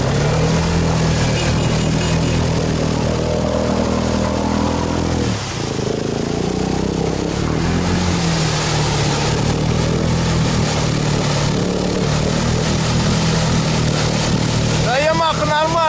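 A Yamaha 250cc motorcycle engine drones loud and continuous throughout, with a brief dip and rising revs. Voices are heard over it.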